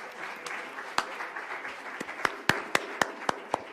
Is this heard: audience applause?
yes